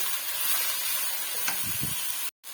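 Macaroni being roasted in a pan with black pepper, chili and salt gives a steady, close sizzling hiss throughout, then cuts off abruptly near the end.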